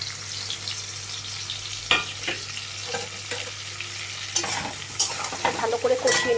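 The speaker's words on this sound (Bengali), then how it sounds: "ভালো করে কষিয়ে নিতে হবে।" Spiced masala and potatoes stir-fried in a pan with a splash of water for a vegetarian dalna, giving a steady sizzle broken by repeated scraping strokes of the spoon, close and fairly loud, with no voices.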